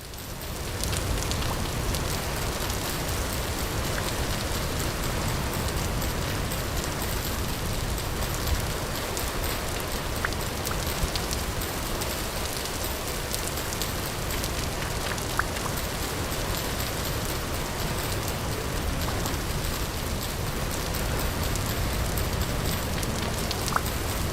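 Steady rain falls in the video game Vintage Story, a dense, even hiss of drops on surfaces that holds at a constant moderate level with no talking.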